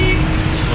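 Bangalore road traffic, loud and close, with a steady wash of engines and tyre noise filling the short moment.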